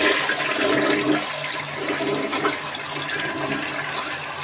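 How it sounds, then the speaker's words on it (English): A toilet flushes close by, a loud continuous rush of swirling water that holds steady and slowly tapers, with no voices. "As we flush YouTube down the toilet."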